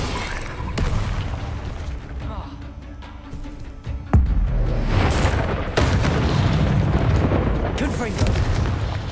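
Spell explosions from Confringo and Incendio in the video game Hogwarts Legacy on Xbox Series X, a run of loud booming blasts and bursts, with a sharp hit near the middle and dense rumbling impacts throughout, mixed with shouted voices.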